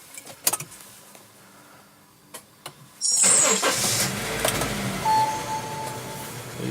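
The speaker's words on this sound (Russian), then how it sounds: "Итак, заводим машину." A Honda CR-V engine cranks and starts after a few clicks and clunks, then settles into a steady close idle.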